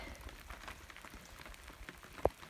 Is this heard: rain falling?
yes